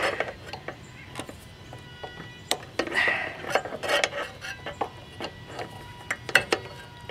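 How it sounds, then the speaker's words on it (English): Needle-nose pliers work a cable loose on a Troy-Bilt self-propelled mower with a 190cc Briggs engine, giving scattered close metallic clicks, snaps and rattles, some in quick clusters, over a quiet background. "So we'll pull that off with some needle nose."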